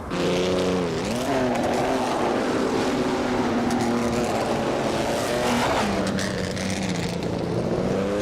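A 1938 Auto Union Type D race car engine in a racing video game drones loud and close, its pitch dipping and climbing as it shifts and revs, holding a steady roar with no voices.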